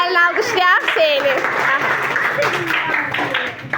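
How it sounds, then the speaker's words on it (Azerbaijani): A sixth-grade class in a village secondary school in Ağcabədi, Azerbaijan, gives student Hüseyin a brief burst of applause, mixed with children's voices and the teacher speaking. "Gəlin alqışlayaq Hüseyini"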